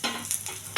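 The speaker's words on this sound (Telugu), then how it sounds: "ఎండుమిర్చి, వెల్లుల్లిపాయలు, మెంతులండి కొంచెం బాగా వేగనివ్వాలి." Dried red chillies, garlic and fenugreek seeds frying in oil for gongura chutney tempering, a brief close sizzle with scraping stir sounds.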